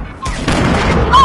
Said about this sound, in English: I'll go with a grenade.